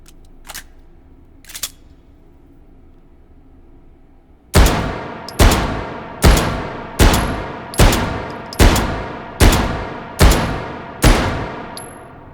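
Desert Eagle .357 Magnum in Hot Dogs, Horseshoes and Hand Grenades: after two faint clicks and a quiet pause, nine loud sharp shots ring out in an even, steady rhythm, each with a brief ringing decay.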